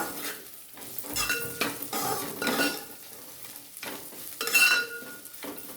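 Food being stirred in a pan with turmeric and salt: repeated scraping and clattering strokes of a spoon against the pan over a soft sizzle, close by, with one louder knock near the end.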